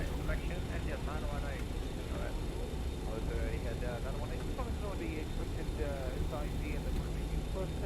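A BAe 146 airliner taxiing to park in Microsoft Flight Simulator 2020, a steady jet engine whine and rumble held at constant level, with a voice speaking over it.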